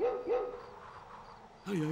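Two quick yelping barks, a pause, then another howling bark, in a dog-like cry that sounds like it may be a voice imitating a dog.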